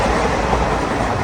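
A moving passenger train rumbles steadily from inside a carriage, a low continuous roll and rattle with no clear talk over it.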